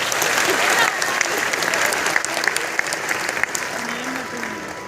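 Loud, sustained applause from an audience at a Patel community annual function, a dense continuous clatter of many hands that stays steady for several seconds before easing slightly.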